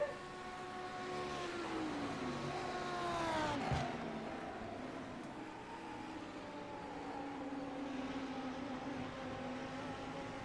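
A GT3 race car in a sim racing game at Sebring drones at high revs, its engine pitch dropping sharply in a downshift and then settling into a steady, moderately loud note down the straight.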